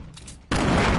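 A shotgun blast in a video game erupts halfway through, a sudden loud, broad roar that holds to the end after a quieter stretch of background game noise.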